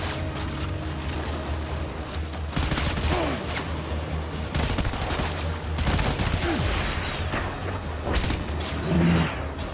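Heavy gunfire in the video game Death Stranding, with dense bursts and rattling volleys that repeatedly swell and fade over a constant low background rumble.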